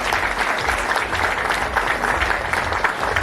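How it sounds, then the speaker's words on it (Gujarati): Sustained audience applause fills a community gathering of the Ludva Patidar Samaj in Mumbai, steady and dense from start to finish with no talk over it. "જોરદાર તાળીઓ એમને આવકારીએ"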